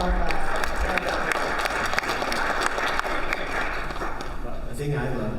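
A crowd at the NAB trade show applauds with steady, dense clapping throughout, some voices faintly mixed in.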